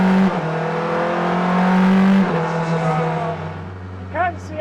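A Porsche 963 RSP street-legal Le Mans hypercar fires up after a bump start. Its engine roars very loudly and close, with a droning pitch that shifts and then eases, while a voice is faintly heard under it.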